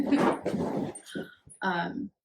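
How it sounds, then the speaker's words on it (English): A very large dog plays with a toy indoors, letting out short whines, whimpers and yips close by in a brief burst. "one of our dogs that's very large, and he's playing with a toy behind my ring light."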